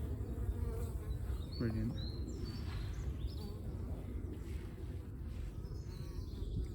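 Honeybees bring pollen into a hive with a dense, continuous buzzing hum from many insects close by. A person speaks briefly over the drone.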